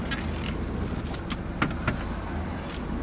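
A car reversing during a driving school parking demonstration in New York, with a steady low engine hum and a few faint clicks and small knocks over it, no voices.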